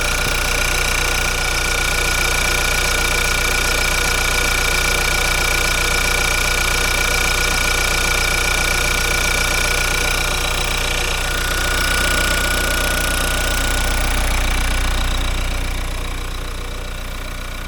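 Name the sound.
Dacia Duster engine idling with a hissing sound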